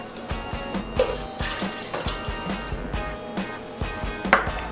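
Water is poured into a blender jar as the first ingredient of a chili coconut almond sauce in a home kitchen, with bursts of splashing and clinking over a steady low background rumble, no voices.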